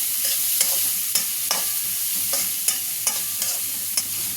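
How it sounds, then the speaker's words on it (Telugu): Chopped onions and green chillies sizzle steadily in a pan while a spoon stirs them, its scrapes and taps landing in a loose, regular rhythm up close. "ఇంకా పచ్చిమిర్చి ఒకసారి ఇలాగా కలిపేసుకుందాం."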